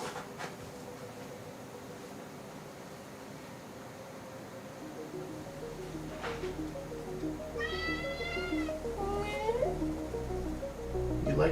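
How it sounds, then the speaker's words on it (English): A cat in a box gives a couple of short meows over steady background noise and a low hum, with a person speaking softly nearby. "Cat in the box."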